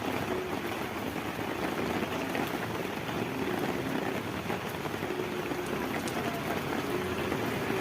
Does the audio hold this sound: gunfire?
no